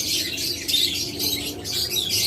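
A chorus of caged budgerigars, cockatiels and lovebirds in a pet bird shop twitters in quick repeated bursts, continuous and close with no talk.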